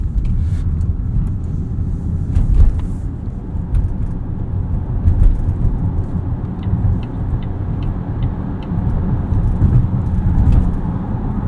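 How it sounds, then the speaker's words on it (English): A 2022 Volvo XC60 T8 Polestar plug-in hybrid in pure electric mode pulls away at full throttle, heard from inside the cabin as a steady loud rumble of road and motor noise with no spoken voice. "All right, pure mode, full throttle."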